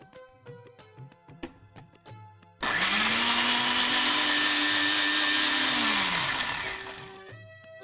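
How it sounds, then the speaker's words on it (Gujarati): A kitchen mixer grinder crushes cooled tomatoes into puree, starting abruptly with a loud, steady high whine that runs for about four seconds, then winds down, with faint clinks of utensils before and after. "જો આ ટામેટા પણ ઠંડા થઈ ગયા છે એને પણ આપણે મિક્સરમાં ક્રશ કરી લઈએ."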